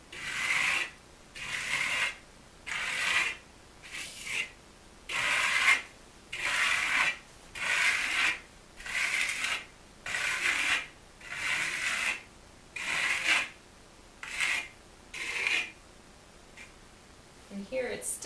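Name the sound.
trowel spreading AquaStone coating with arcing motions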